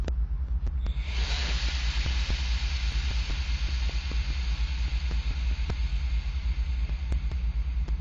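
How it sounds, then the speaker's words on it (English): Train air brakes releasing in a train simulator game: a loud, steady broadband hiss of escaping air rises after about a second and holds throughout over a low rumbling hum. "Now we need to completely release the train's air brakes."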